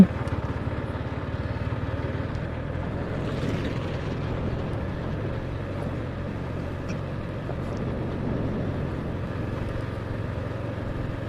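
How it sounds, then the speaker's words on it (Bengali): A motorcycle rides steadily along the Jessore–Jhenaidah highway, its engine a continuous low drone with rushing wind noise heard from the rider's position for the whole stretch. "যশোর ঝিনাইদহের মধ্যে সব থেকে সুন্দরতম একটি রাস্তাতে আমি বাইক রাইড করতেছি।"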